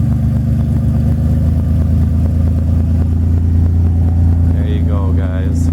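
A Pontiac Grand Prix GTP engine rumbles loudly and steadily through its exhaust, close by, with someone briefly speaking near the end.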